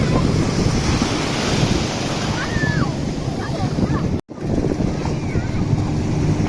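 Sea waves rolling and breaking on a beach at Scarborough or Whitby, a steady loud rush of surf with wind buffeting the microphone and a brief dropout partway through.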